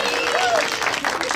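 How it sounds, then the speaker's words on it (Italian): Crowd applause fills the brief moment, loud and steady, with a voice briefly audible over it. "facciamo un applauso ai bambini meravigliosi"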